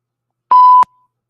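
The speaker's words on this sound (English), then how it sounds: "We got a bleeper." A single censor bleep triggered by a button on a wrestling watch-along broadcast: one clean, loud steady tone lasting about a third of a second, alone against silence.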